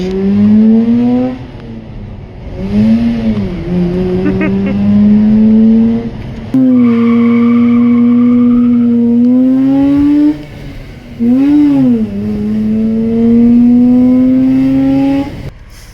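Engine of a manual-transmission project car revving through repeated gear pulls while driving, rising in pitch with each acceleration, dropping at shifts, loud and close from inside the cabin.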